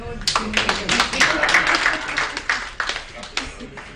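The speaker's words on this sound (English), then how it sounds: "We are clapping for everybody." Audience at a panel discussion on internet rights clapping, a burst of many hands that stays fairly loud and then thins out, with voices mixed in underneath.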